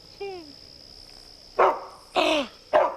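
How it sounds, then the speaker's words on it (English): A dog barks three times in quick succession, loud and close, after a faint high whine at the start; a steady high tone hums underneath. "That's a dog!"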